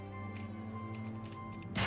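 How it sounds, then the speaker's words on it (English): Typing on a computer keyboard while playing the hacking game Hacknet: a handful of quick, light key clicks in small clusters over a steady low hum, ending with a slightly louder burst of keystrokes. "I'm going to start typing these because it's more fun to type"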